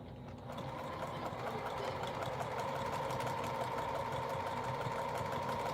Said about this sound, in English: this is why I be double sewing my corners